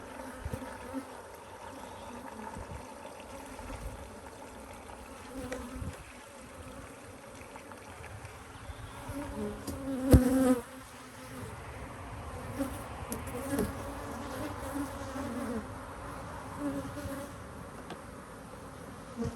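Honeybees buzz steadily around a backyard hive fed with jar syrup feeders, a continuous near drone of many insects with one louder bee passing close midway.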